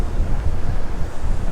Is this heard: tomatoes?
no